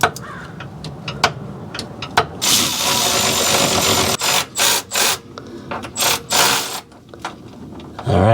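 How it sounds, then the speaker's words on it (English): A flex head ratcheting wrench loosens a 12mm bolt on a Toyota RAV4 power steering rack. It clicks out in quick ratchet bursts, several short strokes in a row, close up. "This is a 12mm, just using this mountain flex head ratcheting wrench."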